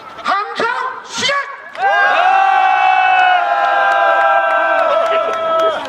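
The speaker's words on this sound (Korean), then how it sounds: "함성 시작!" A large crowd at an outdoor candlelight rally roars in a loud, sustained collective shout with whoops after a few brief voices, filling the space for several seconds.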